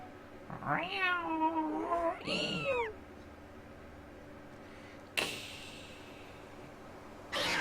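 A cat in the video game The Legend of Zelda: Skyward Sword gives two drawn-out, wavering meows close by, and a couple of sharp whooshing game sounds follow.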